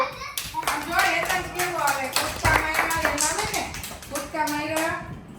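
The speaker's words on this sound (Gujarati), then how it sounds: "વાર્તા કીધી તાળી પાડો" Hand clapping in a family home after a story is told, sharp claps repeating through the clip under steady children's and adults' chatter, close and fairly loud.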